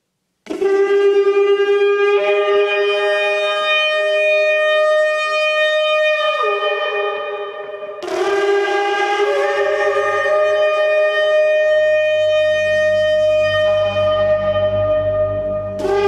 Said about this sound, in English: this is what a shofar trumpet call of God sounds like